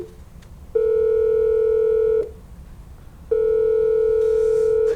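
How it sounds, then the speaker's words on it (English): A synthesized telephone dial tone made from two mixed sine waves plays as two loud, steady bursts, each lasting about one and a half to two seconds, separated by a short gap of quiet. "440 hertz and 350 hertz sine wave mixed together"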